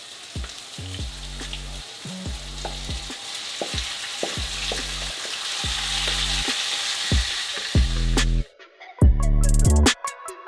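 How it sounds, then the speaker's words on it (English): Onion and tomatoes frying in a hot pan for awaze tibs, a constant loud sizzle with repeated clattering stirs and scrapes of a utensil against the pan, ending in a few sharper knocks. "So we're gonna have this thing sizzling real quick."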